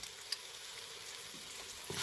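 A faint, steady sizzle of paprika frying in a hot pan, with a soft stir or clink near the end.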